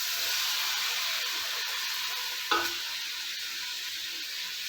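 Onions and tomato sizzling in a pot, a steady close hiss of frying that runs throughout, with a brief clatter of stirring partway through.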